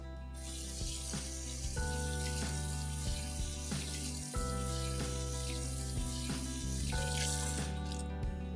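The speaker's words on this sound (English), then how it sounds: "I will wash my hands thoroughly for 20 seconds" Tap water runs steadily into a sink while hands are washed under it, a continuous close splashing stream with faint rubbing bursts, no talk.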